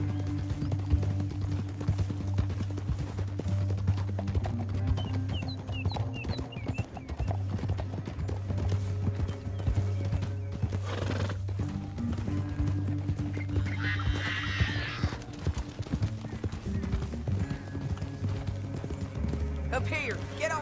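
Horses gallop at a steady clip-clop in the video game Red Dead Redemption 2, with a horse whinnying briefly partway through, all running beneath continuous character dialogue and background music.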